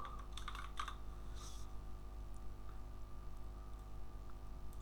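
Fast typing of JavaScript code on a computer keyboard, quick bursts of clicky keystrokes up close, then sparser taps over a low steady hum, no talking.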